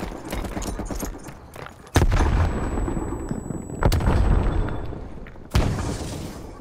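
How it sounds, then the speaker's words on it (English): Grenade blasts and gunfire in the Cold War shooter Call of Duty Black Ops Cold War: three sharp, loud broadband bursts over a dense, continuous din of battle. "Grenade out."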